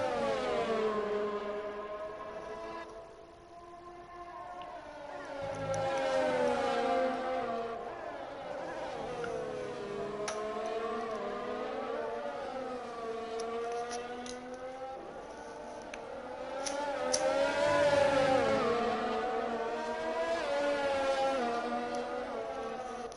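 F1 race cars battle in a racing video game at the Netherlands circuit, with continuous high-revving engine whine rising and falling through gear changes as the cars follow each other closely, with no talk.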